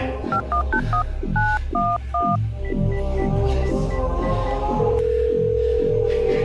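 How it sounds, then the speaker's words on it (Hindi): Quick two-tone keypad beeps from a phone dial a number, followed by a steady line tone, over a loud rhythmic pulsing music backdrop. "चुप कर, फोन लगाओ तुम पुलिस को"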